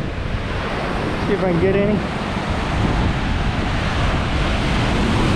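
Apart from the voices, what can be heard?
ocean waves crashing against jetty, Newport, Oregon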